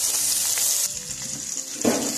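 Chopped onion, turmeric and tomato sizzle in hot oil in a pan for a spicy chicken gravy, a steady bright crackle with a brief stirring scrape near the end.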